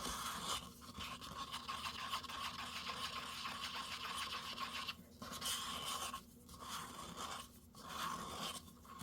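Resin being stirred and mixed in a container, a continuous scraping and scratching with brief pauses, close and fairly quiet.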